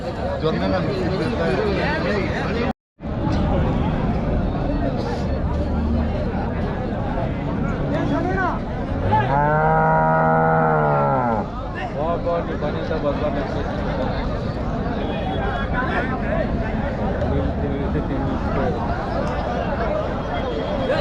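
Native cattle at the Kundarapalli cattle market: a single long, drawn-out moo rises near the middle, set against constant crowd chatter and people talking close by throughout.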